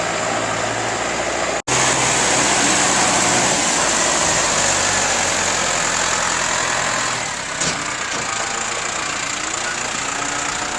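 Farm feed mixer truck engine running steadily in cold winter conditions, a loud continuous rumbling drone with a constant broadband roar close by, no talk over it.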